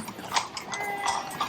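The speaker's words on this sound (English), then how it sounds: "Tapping of the horses as opposed to honking of the cars was something new to my ears in the busy city center." Horses' hooves clip-clop on a busy Vienna city-centre street, a close, steady run of hard taps with a brief whinny-like tone threading through.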